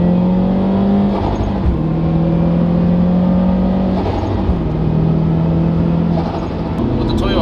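A boosted turbocharged Toyota GR86 pulls hard through a bend on Toyo R888 tires, its engine note climbing in rising sweeps between shifts, loud and close from inside the car, with faint whooshes on top.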